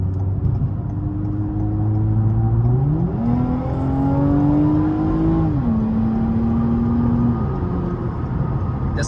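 A Toyota Camry TRD with about 100,000 miles, in sport mode, accelerates hard. A loud, steady exhaust drone climbs in pitch, steps down at a gear change, then climbs again, with no talking.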